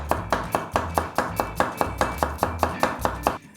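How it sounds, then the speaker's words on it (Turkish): A knife slices an onion crosswise on a cutting board in a fast, even rhythm of about a dozen crisp, close thuds, each with a short scrape, with no voices. "Diğerinde ise aynı şekilde parmaklarımı koruyarak yan olarak doğruyorum."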